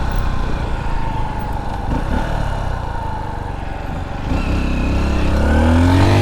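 A 2023 Honda XR150L motorcycle running up the road, a loud continuous engine drone with wind rush, the pitch climbing as it accelerates near the end.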